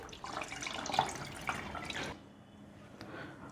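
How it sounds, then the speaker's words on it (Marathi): Water pours off freshly washed mixed lentils in a home kitchen, a steady splashing drain for about two seconds that then thins to a faint trickle. "आता हेही पाणी मी काढून घेते"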